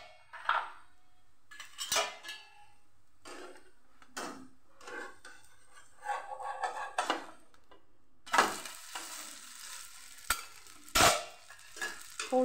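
A rice flour chila cooks in a pan with a soft sizzle, broken by scattered clinks and scrapes of a utensil against the pan, with a louder burst of frying sizzle toward the end and no talking.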